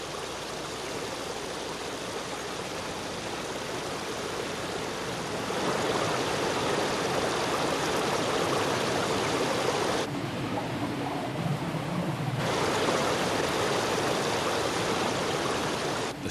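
River rapids where salmon leap upstream roar with a broad, continuous rush of churning water, steady and fairly close, with no speech.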